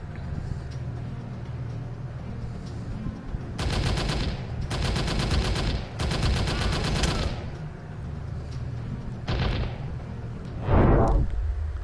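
Gunfire from the PSVR arcade shooter Operation Warcade: several long sustained bursts of rapid automatic fire separated by short gaps, loud and close, with a heavy blast near the end.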